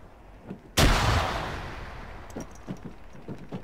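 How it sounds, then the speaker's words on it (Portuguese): A grenade explodes in the Arma 3 video game: one loud, sudden blast with a long rumbling decay, followed by a few faint scattered pops in the distance. "Eles jogaram granada jogaram, aqui dentro."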